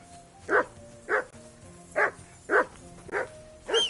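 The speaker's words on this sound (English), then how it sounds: "call off that dog" Dog barking in the Kingdom Come Deliverance 2 video game, six evenly spaced barks at moderate distance over a low background hum, with no voices.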